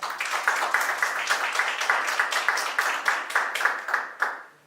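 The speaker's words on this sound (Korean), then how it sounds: "큰 박수로 교수님의 발제를 부탁을 드리겠습니다." Audience at a New Bauhaus academic event applauds a professor's presentation, a dense patter of clapping from a modest crowd that holds steady, then fades out at the end.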